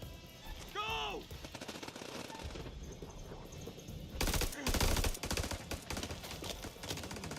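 A firefight in the video game House of Ashes brings rapid bursts of gunfire, with dense volleys in the second half. A shouted voice and a swooping tonal sound come in early on.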